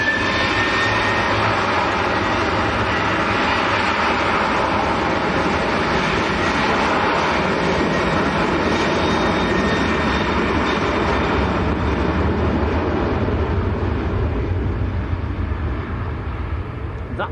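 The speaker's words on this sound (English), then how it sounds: "Ryanair 738 next to go." A Ryanair Boeing 737-800 jet takes off at Manchester Airport, a loud continuous roar with a high whine that holds steady and begins to fade near the end, heard from a distance outdoors.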